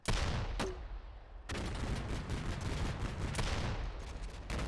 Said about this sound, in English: I think it's the grenade, underslung grenade launcher